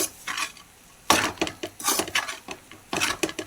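Hot rice being mixed into a tempering in a pan makes scraping, clinking spoon-against-metal strokes in quick irregular bursts, close and fairly loud, with no talking.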